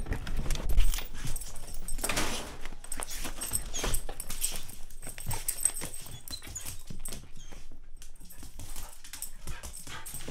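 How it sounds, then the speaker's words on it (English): Dogs move about at home near the camera, with scrabbling, jingling tags and panting-like noises in scattered close bursts of varying loudness, with no voices. "Two kinds of dogs."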